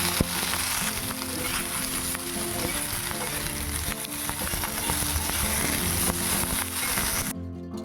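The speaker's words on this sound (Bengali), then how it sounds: "আলুটাকে একটু নাড়াচাড়া করে এখন বেগুনটাও দিয়ে দিচ্ছি।" Potato and eggplant sizzle and crackle steadily in hot oil in a pan, stirred now and then, a close, continuous frying hiss that stops abruptly at the end.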